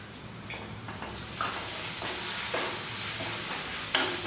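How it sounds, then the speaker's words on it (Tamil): Torn parotta pieces stirred into chilli gravy in a hot pan: a steady soft sizzle with intermittent scraping and clacking of a spatula against the pan, close and fairly quiet. "இப்போ பரோட்டாவை கொட்டி கிண்டிவிங்க, எல்லாம் ஒன்று சேர்கிற மாதிரி."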